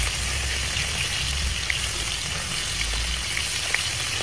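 Fish frying in hot oil in a well-heated wok, a loud continuous sizzle and crackle with occasional sharper pops, close up and with no voices.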